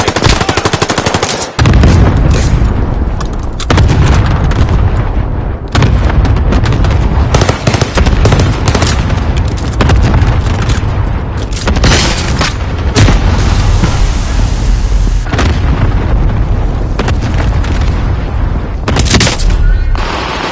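Call of Duty gameplay with heavy, continuous loud gunfire and booming explosions from an airstrike, dense rapid bursts filling the whole stretch with almost no pause.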